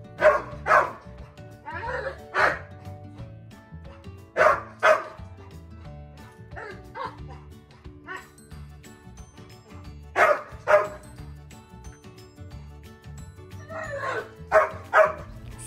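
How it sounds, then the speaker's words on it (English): Dogs bark excitedly in loud clustered bursts with yips and whimpers between them, reacting to a squirrel feeder outdoors, while someone talks quietly throughout. "It's the first time and dogs go nuts."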